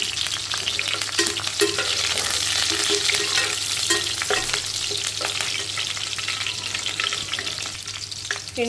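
Curry leaves and green chillies sizzle steadily in hot oil for a fish pulusu, with spoon scrapes and stirring clatters across the pan, close and continuous with no talking.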